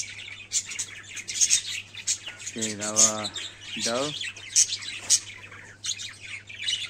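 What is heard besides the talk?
green ring-necked parrots chirping and squawking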